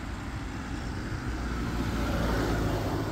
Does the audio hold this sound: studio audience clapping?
no